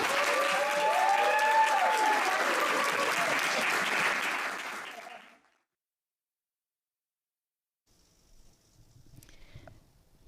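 Audience applause fills a hall at a family event, loud dense clapping for about five seconds before it cuts to silence, followed by faint scattered noises.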